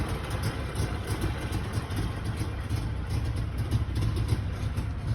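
A 1961 DKW car idles after a cold start in warm weather, its small engine giving a steady, buzzy, trimmer-like drone that stays close and even throughout with no talk.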